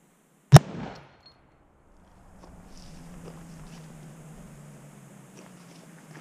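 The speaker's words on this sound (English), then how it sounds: "I'm going to start with the reduced load out of the 308." A single sharp .308 rifle shot with a reduced load, fired into ballistic gel outdoors, cracks loud and close, then fades into a quiet low hum and faint background noise.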